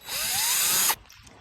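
A power drill whirs steadily, pitch rising slightly as it drives a small screw into wood while a MaxxAir roof fan is mounted on a Ram ProMaster van, then cuts off abruptly after about a second.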